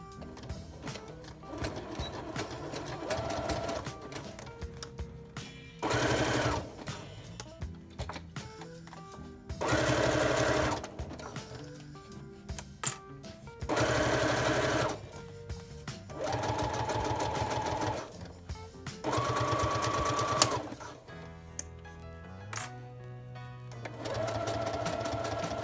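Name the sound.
sewing machine zigzag stitching vinyl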